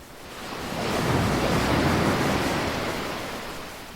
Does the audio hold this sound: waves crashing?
yes